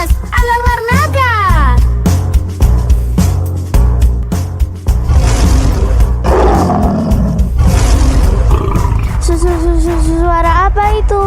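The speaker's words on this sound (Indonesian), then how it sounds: "Sepertinya suara singa si raja hutan." A lion roar sound effect blasts loudly through a staged school musical drama, a long rumbling roar layered over music and stage noise, with children's voices speaking around it.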